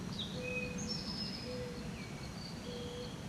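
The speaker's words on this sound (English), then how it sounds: "the birds, a whippoorwill off in the background." Faint birdsong with thin, drawn-out whistles drifts over a steady low outdoor hum on a homestead; a distant whippoorwill calls repeatedly in the background.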